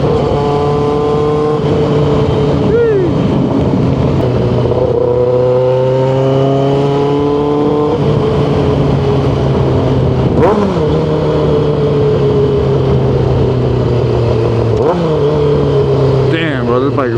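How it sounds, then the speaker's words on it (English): Retro Kawasaki Ninja ZX6R motorcycle being ridden, a loud close engine note rising through the revs with repeated gear shifts and wind rush, steady throughout. "This bike is it's really a head turner for real"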